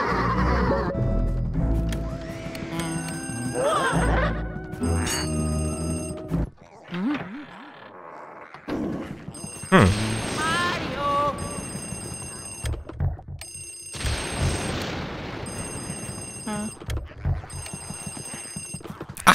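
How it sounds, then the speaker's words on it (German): Telephone ringing in the video game Luigi's Mansion 3DS: repeated bursts of electronic ringing separated by short gaps, mixed with game music and effects, with a voice talking between rings. "Ach, das Telefon klingelt."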